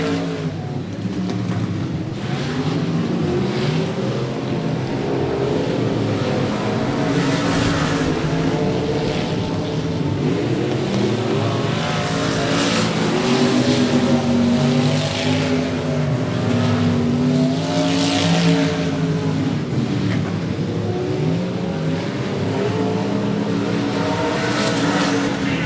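Race cars roaring around the 105 Speedway dirt track in Texas during a regular race program, a continuous loud engine drone with rising and falling passes throughout.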